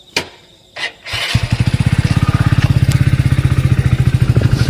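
A motorcycle engine kicks over after a few thumps and clatters, then catches and runs at a fast, even putter, loud and close, with no talk over it.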